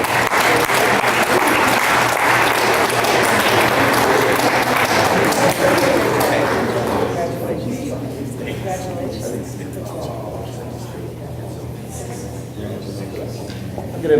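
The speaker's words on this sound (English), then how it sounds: "Let's give them a round of applause" Applause at a school board honors and recognitions ceremony, a steady room-filling clatter of many hands that runs loud for about seven seconds, then thins and fades as talk continues underneath.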